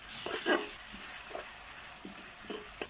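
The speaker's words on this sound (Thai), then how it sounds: "ผัดเครื่องผัดใส่กับน้ำมัน" Chili, garlic, shrimp paste and shallot paste stir-frying in oil, a steady hiss of sizzling with scattered soft scrapes of stirring close by, no talking.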